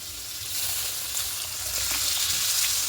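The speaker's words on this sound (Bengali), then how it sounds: "এখানে গরম জল নেবেন, ব্যাস জলটা দিয়ে দিলাম" Hot water poured into a hot pan of moong dal, giving a loud, continuous hiss and sizzle that builds slightly and holds steady, close by with no talking.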